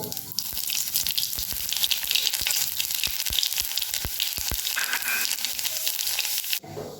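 Nigella seeds dropped into hot mustard oil, a loud, close, continuous crackling sizzle dense with sharp pops that thin out near the end, with no voices.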